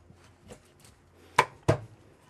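A knife trims the fin from a grouper on a board, giving two sharp, close chops in quick succession after a few faint, softer taps.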